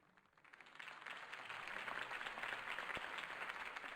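Crowd applause after a campaign speech for Harvey Dent in the Batman Telltale Series video game, a dense, steady wash of clapping that swells in over the first second and holds at a moderate level.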